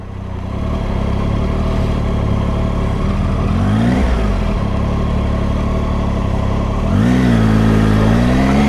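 A 2018 Triumph Tiger 800 XRx motorcycle engine running close by, a loud steady drone with two brief revs that rise and fall around the middle and near the end.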